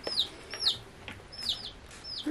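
Newly bought chicks peep in high, repeated short chirps, several in quick succession, close and clear over a soft, steady background hum.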